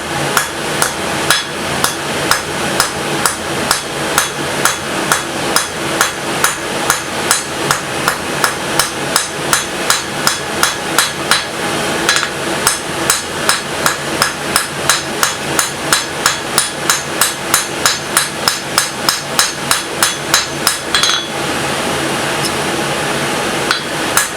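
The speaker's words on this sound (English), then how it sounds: "we're going to cross peen the very edge so that it spreads out so you get the wings like that" Cross peen hammering hot metal on an anvil while forging a vice spring: loud, rapid, evenly spaced ringing blows, dozens in a row, close by, pausing only briefly near the end.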